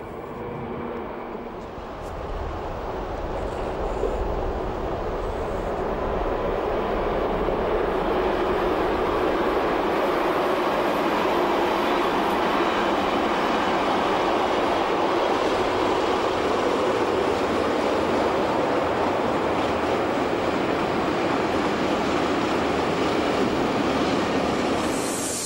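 Siemens EuroSprinter electric locomotive 127 001 on a test run in Switzerland, a loud, steady rolling roar of wheels and motors that swells over the first few seconds and then holds constant.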